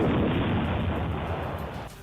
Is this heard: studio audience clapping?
no